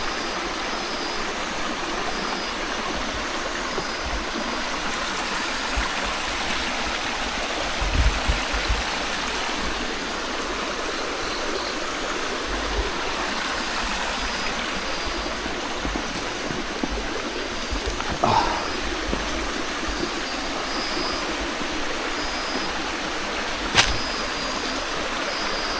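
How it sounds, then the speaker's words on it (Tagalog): A river flowing steadily nearby, a constant broadband wash of moving water with a few faint knocks and rustles over it, no voices. "may ilog din eh"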